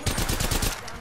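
Rapid automatic gunfire from a squad battle video game, a dense string of close, loud shots that fades off into a quieter tail near the end.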